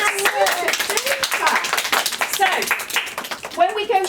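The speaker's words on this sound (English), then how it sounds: "Give yourselves a big clap" Children in a school classroom clap together, a burst of quick, uneven hand claps close by, mixed with voices and chatter throughout.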